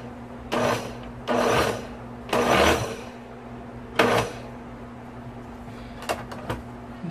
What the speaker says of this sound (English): So I'm going to blend it in the blender.